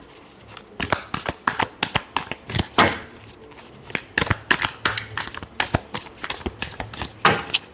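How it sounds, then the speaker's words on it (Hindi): Tarot cards being shuffled by hand, a close, crisp series of riffling bursts repeating in a quick uneven rhythm with no talking. "Last shuffle."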